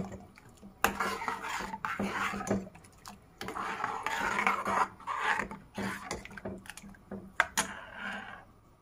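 Paneer kofta ingredients are stirred and mixed in a bowl, a utensil scraping and clinking against the sides in irregular bursts, close and fairly quiet.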